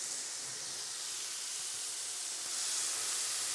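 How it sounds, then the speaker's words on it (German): Meat flambéed with gin in a pan gives a steady, bright hissing and sizzling rush that swells slightly near the end, with no talking. "jetzt flambieren wir. Das heisst, wir geben ein bisschen Alkohol dazu, der verdampft aber gerade wieder"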